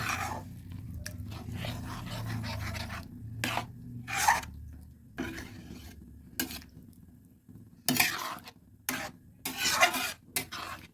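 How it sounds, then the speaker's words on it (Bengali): Carrot pitha mixture being stirred with water in a pot, giving intermittent scraping and swishing strokes in short bursts with pauses between, close and fairly quiet. "ভালোভাবে মিশিয়ে নিচ্ছি"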